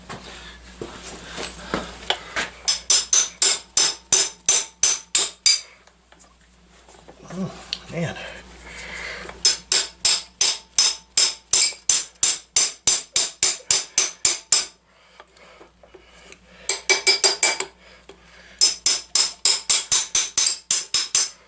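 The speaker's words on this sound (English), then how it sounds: "I think we need a hammer. Hammer time." Rapid bursts of sharp metallic hammer blows on the flywheel of a 1963 Evinrude Lark 40hp outboard engine ring out in quick series, loud and close, separated by brief pauses with some talking and shuffling.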